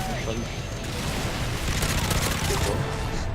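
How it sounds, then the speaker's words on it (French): Machine gun fire from the Modern Warfare 3 video game rattles as continuous dense automatic bursts at high volume, with players talking over the gunfire. "Vas-y, je le mitraille."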